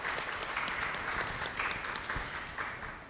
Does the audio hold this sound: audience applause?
yes